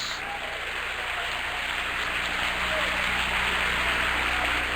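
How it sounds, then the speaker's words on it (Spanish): A church congregation applauds during a sermon, a dense, steady wash of clapping that sounds almost like rain, continuous and fairly loud with no speech over it. "Ese aplauso para Jesús esta mañana, porque nos ha hecho libres."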